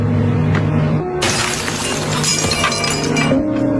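A glass window is struck by a kicked football and shatters in one loud crash, followed by a bright spray of falling shards that rings on for a couple of seconds.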